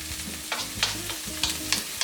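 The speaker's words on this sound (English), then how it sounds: "allows me to get almost kind of like a hard saute or a bit of a fry on those leaves to get that crisp going" Brussels sprouts with garlic frying hard in olive oil in a pan, a steady close sizzle broken by repeated bursts of stirring and scraping as the pan is kept moving.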